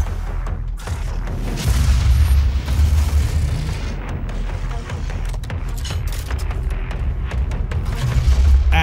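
Enemy jump attacks slamming down in DOOM: heavy booming impacts over a constant roaring wash of combat noise, loud and dense throughout, with no talk.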